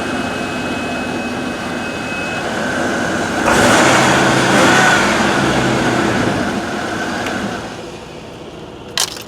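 A Bentley Brooklands or Rolls-Royce Corniche engine runs steadily nearby, swelling into a louder rev midway before easing back to a smooth hum, with a sharp click at the end.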